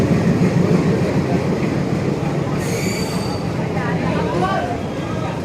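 Train at platform four of Ahmedabad Junction, a dense rumbling rail roar with squealing wheels, heard close and loud while people talk over it.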